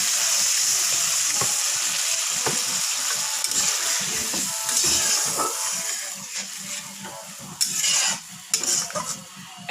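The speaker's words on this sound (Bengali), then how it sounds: "এখন কেটে রাখা মশলাগুলো দিয়ে দিচ্ছি। এখন একটু কষাবো। এখন জল দিয়ে দিচ্ছি।" Spices sizzling in a pan for a Bengali chapila fish curry, with a spoon scraping and stirring in repeated strokes, then water hitting the hot pan in loud bursts toward the end.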